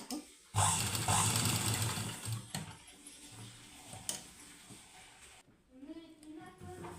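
A sewing machine stitching the lining of a round-neck blouse whirs loudly for about two seconds, then fades into quieter handling noises while a person talks.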